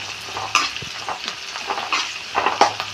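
Neem leaves frying in a pan for a jackfruit-seed and drumstick-leaf thoran, with steady sizzling and several sharp spatula scrapes and stirs spread through, close up and with no talking.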